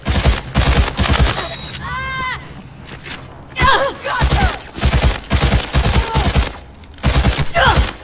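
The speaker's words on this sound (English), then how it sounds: "Somebody else is shooting at me." Rapid bursts of gunfire in the video game Cyberpunk, close and loud, repeating in several volleys with other game sounds and a voice talking in between.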